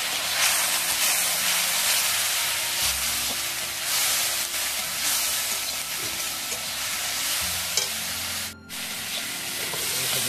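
Turmeric, chili powder and green chilies hit hot oil in a pan for a Bengali mustard fish curry, giving a loud, continuous close sizzle and crackle with no talking.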